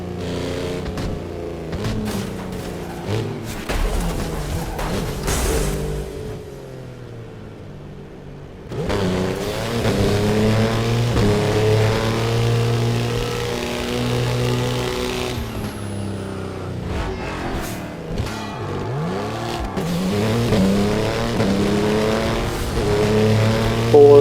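A car engine revs and roars in the racing video game Burnout Paradise, sustained and loud, dipping briefly before surging back up with pitch swells as the car accelerates, with no talk over it.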